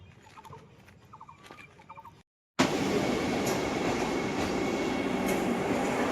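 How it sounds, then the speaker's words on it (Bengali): A train slowly rolls into Malda station, its loud, steady rumble starting abruptly after a brief silence and holding unbroken, with fainter chirps and clatter audible beforehand. "দেখো ট্রেনটা পুরো স্টেশনে ঢুকছে, মালদা স্টেশন আসছে সামনে"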